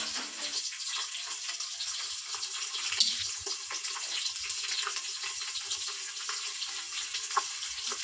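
Tomato and tempering fry in a pan for paneer pulao, giving a steady, soft sizzle and bubbling hiss throughout, close but fairly quiet, with no voices over it.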